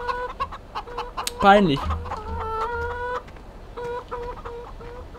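Chickens in a coop in Farming Simulator 17 cluck steadily in short repeated bursts, with one loud rising squawk, while someone briefly speaks over them.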